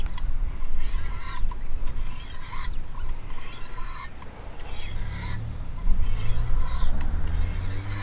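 Knife blade drawn along an 800 grit stone on a Wicked Edge WE120 sharpener, close rasping strokes in uneven bursts with brief pauses and a faint background hum; no talking.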